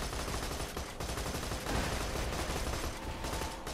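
Rapid crackling bursts of explosions and gunfire in the video game Borderlands 2, dense and continuous, loud and close, with no talking over them.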